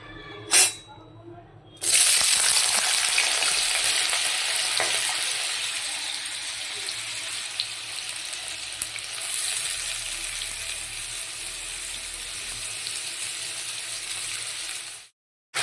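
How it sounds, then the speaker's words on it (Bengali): Potatoes frying in hot oil in a home kitchen for luchi, a loud continuous sizzle that bursts in after a short quiet knock and runs steadily before cutting off at the end. "আলুটা কিন্তু ভাজা হচ্ছে"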